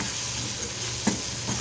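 Steady hissing sizzle of hot oil tempering with red chili powder in a pan, with faint scraping as the mixture is stirred, close and continuous.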